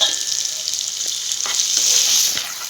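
Onions fry in a pan for a soya chunk curry, giving a loud, dense sizzle up close. The hiss swells slightly toward the end and runs without speech.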